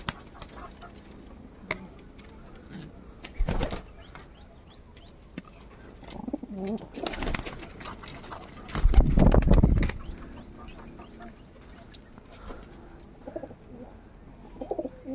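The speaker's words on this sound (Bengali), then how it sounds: "এটা দেখো নর পায়রা আছে" Pigeons kept as pet birds at home, a few soft throaty coos heard close by in a quiet setting, separated by stretches of low background noise.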